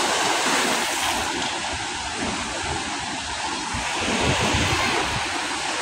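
Big sea waves on Manila Bay roar in a dense, continuous wash of surf mixed with gusting wind buffeting the microphone, loud and unbroken throughout.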